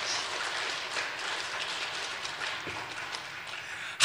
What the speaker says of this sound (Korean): 이럴 땐 박수 한번 쳐